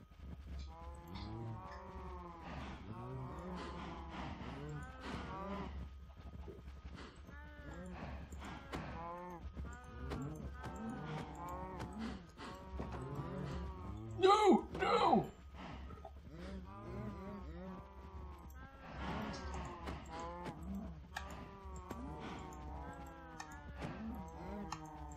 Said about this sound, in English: We have some cows in there and we have cows here.